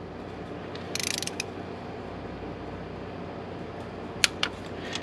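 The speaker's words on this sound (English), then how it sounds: "We're just torquing the spark plug." A torque wrench tightens a spark plug to 18 pounds on a 2008 BMW 328xi, giving a short run of quick ratcheting clicks followed later by a few sharp metallic ticks over a steady background hum.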